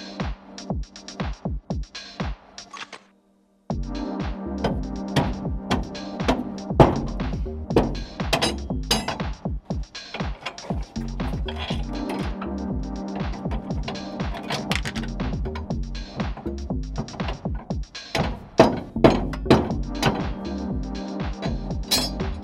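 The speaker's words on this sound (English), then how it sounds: "I'm gonna go and loosen the U-bolts on the ones that I can" U-bolts are loosened on a Mazda B2200 pickup, with sharp metallic clicks and clinks from a wrench in quick irregular runs. A brief pause comes early on, then the work continues close and steady, with no talk.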